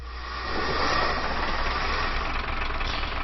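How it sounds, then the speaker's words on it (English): A U-boat diesel engine in a submarine simulator game runs at a low idle, giving a steady, dense rumble that swells slightly at first and then holds even throughout. "So let's start the diesel."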